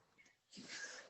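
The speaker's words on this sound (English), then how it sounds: "so those are post-nap sneezes" A person just woken from a nap sneezes once, a short breathy intake followed by a burst of air, faint and close, with no talking during it.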